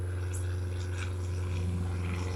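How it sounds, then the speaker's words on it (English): A plane flies by in the distance, a steady droning hum that holds level beneath quiet surroundings. "Plane flying by"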